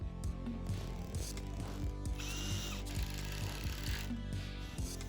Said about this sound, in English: I went in and pre-drilled holes for the 1-inch screws, then did this all around the frame.